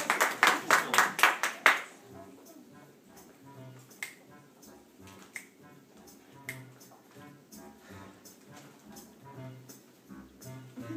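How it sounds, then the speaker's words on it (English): Audience applause greets a musical theatre performer before a song from How to Succeed in Business, starting with a burst of loud clapping that fades within two seconds into a quiet room with scattered faint knocks. "let's give a round of applause to Matt Duffy."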